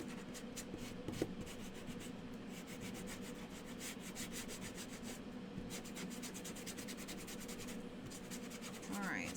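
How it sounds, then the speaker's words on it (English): Sanding the grass piece of a handmade butterfly decoration: steady, rapid scratchy rubbing strokes with a dry gritty texture, continuous and close for several seconds, with a short tap partway through and no talk. "So the grass is sanded."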